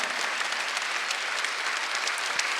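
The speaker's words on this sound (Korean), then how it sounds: "박수 한번 주세요." A church congregation at Sunday worship gives sustained applause, a steady, even roar of many hands clapping together at moderate loudness, with no voice standing out above it.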